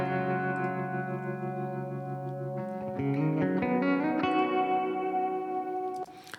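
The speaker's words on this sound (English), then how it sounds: "I just want you to hear reflections from this chamber on the other side" Sustained electric guitar chords ring out with spacious reverb chamber reflections, shifting to a new chord partway, then cutting off near the end.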